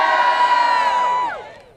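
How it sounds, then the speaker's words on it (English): A crowd at an outdoor rally for clean power and reliable transit lets out a loud, sustained cheer of massed voices that holds for about a second and then fades away. "Now give me a cheer if you think public transportation is worth saving."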